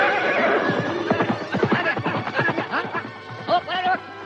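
A horse whinnies with rising and falling cries in a village scene of an Indonesian drama series, close and fairly loud, mixed with voices talking.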